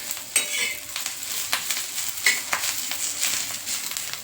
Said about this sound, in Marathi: कांदा भाजायला मी लोखंडी तवा घेतलाय, तर त्याच्यावर छान भाजला जातो कांदा